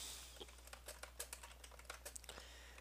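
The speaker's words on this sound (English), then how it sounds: "sorry, I'm typing" Computer keyboard typing during a Pokemon Black WiFi battle: quiet, irregular clicks in short bursts over a faint steady hum, with no voices.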